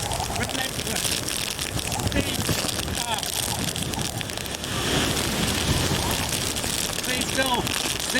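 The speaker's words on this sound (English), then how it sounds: "This rain and spray is just relentless." Hurricane Ike's rain and spray lash down in winds over 100 miles per hour, a dense, relentless roaring hiss that stays loud and steady throughout.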